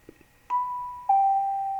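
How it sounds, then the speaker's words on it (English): A software notification chime from the FLDIGI ham radio program: a clean two-note ding-dong, a higher tone followed by a slightly lower sustained tone, played alone and clearly. "ding dong."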